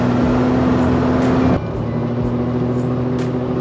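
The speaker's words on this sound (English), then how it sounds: "Oh, that exhaust sounds so good." Third-generation Toyota 4Runner exhaust droning while driving, a steady low engine hum with a tonal note that drops and eases off midway as the truck lifts off the throttle.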